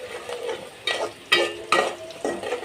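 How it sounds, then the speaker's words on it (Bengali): Onion frying in a pan as the base for a fish curry, with crackling sizzle under repeated scraping stirs of a spoon, close and fairly loud, no voices. "তরকারি বসানোর জন্য এখানে পেঁয়াজটা ভেজে নিচ্ছি।"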